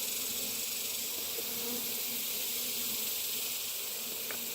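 Honey bees buzz steadily during a beehive inspection, a dense continuous drone of many insects close around, with no speech heard.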